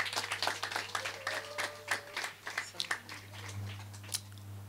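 Wedding guests break into a short burst of clapping, scattered hand claps that thin out after a few seconds over a steady low hum, with some voices murmuring.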